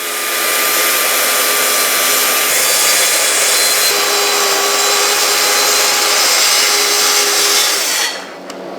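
A track saw running along a guide rail whines steadily through a long cut in wood for about eight seconds, loud and close, then winds down and stops.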